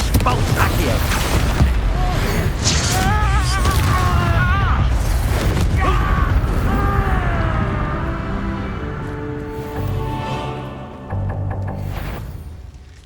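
Confringo blasting spells fired in Hogwarts Legacy, a dense run of booming bursts and crackling magic effects layered with game music and voiced spell calls, loud at first and easing off toward the end.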